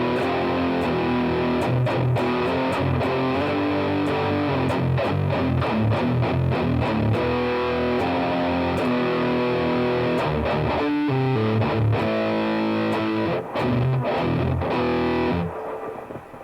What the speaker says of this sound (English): it's still got a lot of noise, even though I've had to really crank up some high gain through the distortion, overdrive, and the blues drive together